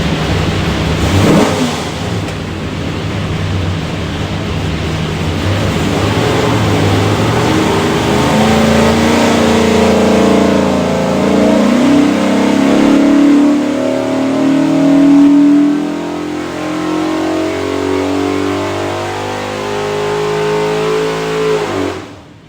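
A Ford 427 V8 on a dyno, destined for a 1967 Mustang Fastback and fitted with Holley Terminator X throttle-body injection, runs loud and steady, then rises in a sustained rev sweep before cutting off sharply.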